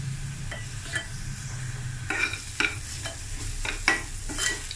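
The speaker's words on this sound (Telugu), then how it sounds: "ఈ ఉల్లిపాయ, అల్లం వెల్లుల్లి పేస్ట్ వేగినీయండి." Onions frying with ginger garlic paste for an amaranth stem masala curry, a steady low sizzle under repeated stirring scrapes that come in short bursts every half second or so, close and moderately loud, with no talking.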